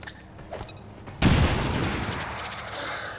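A frag grenade detonates in the video game XCOM 2, a sudden loud boom that rolls into a sustained crackling rumble and slowly fades, with a few softer game sounds just before it.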